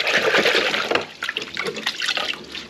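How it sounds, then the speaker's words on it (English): Water rinses dust off a car engine bay during a budget paint job, a close hissing spray that runs steadily, then breaks into uneven splashing bursts. "Just keep rinsing it."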